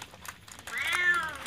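A cat meows once, a rising-then-falling cry close by, after a moment of soft background noise at a family fishing outing.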